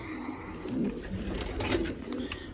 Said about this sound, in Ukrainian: Оце ідеальна пара голубів, дивіться.